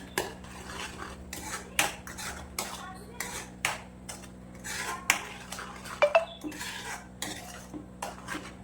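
Metal spoon scraping and clinking against a pan while pav bhaji mixture with tomatoes, red chilli powder and salt is stirred, with irregular close taps and scrapes throughout and no speech.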